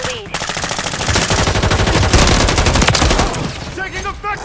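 Sustained rapid automatic gunfire in the video game Call of Duty Modern Warfare 2 during a multiplayer match, loud and close, with bursts tapering off and a brief shouted voice near the end.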